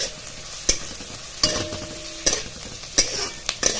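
Onion sautéing in a pan for bazaar amti, with a steady low sizzle broken every second or so by a sharp clack of a spoon against the pan. The sound is close and free of talk.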